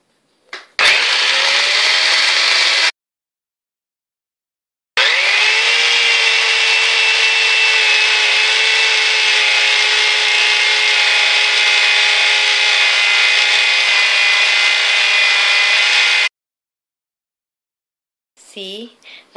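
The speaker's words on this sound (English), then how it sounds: "we're going to blend the frozen banana" An electric blender purees frozen bananas in two loud whirring bursts, a short one and then a longer steady run, separated by silence, with a brief voice at the end.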